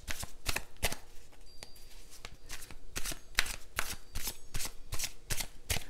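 Playing cards being shuffled and drawn for a tarot-style reading, a steady run of crisp riffling snaps and slaps in close, repeated bursts with no voices.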